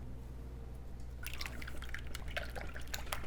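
Dashes of Texas Pete hot sauce drip into a bowl of egg mixture in a home kitchen. After a second of quiet, a quick run of small wet drips and splats follows, close and fairly soft, with no talking.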